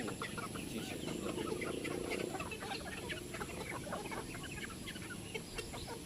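Chickens and many roosters clucking in a busy farmyard at a breeding poultry farm, many overlapping calls, fairly faint, over a steady background hum.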